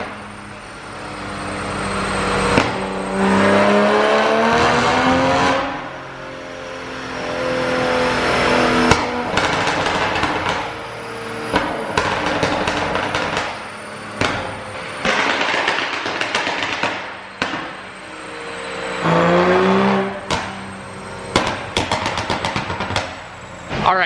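A turbocharged Toyota Supra revving on a dyno, with repeated loud rising engine sweeps and bursts separated by brief drops, heard fairly close.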